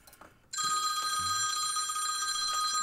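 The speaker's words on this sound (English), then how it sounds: "So I forgot to turn my ringer off." A mobile phone ringer goes off loudly and keeps ringing steadily with a bright electronic tone after a short stretch of quiet background, heard during a live pinball stream.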